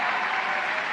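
Crowd at a Trump rally inside a megachurch applauding and cheering, a dense, steady wash of clapping sustained loudly throughout with no individual voices standing out.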